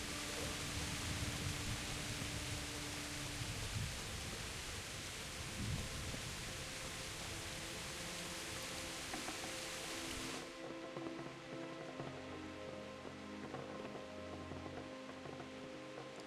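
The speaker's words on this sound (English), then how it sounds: "I love you can hear the rain hitting the roof." Steady broadband hiss of rain drumming on a roof in the medieval game Kingdom Come: Deliverance, continuous and fairly loud, with the texture shifting partway through as low tonal game ambience comes forward.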